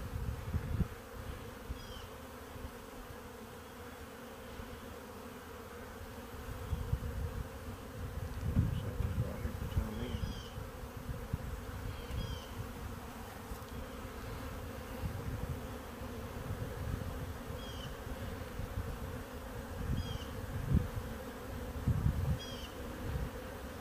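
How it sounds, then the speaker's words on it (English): Honey bees buzz steadily around an open hive during a spring inspection for queen cells, a dense, continuous low drone of many insects close by with occasional louder passes, no talking. "I'd say you got a few bees"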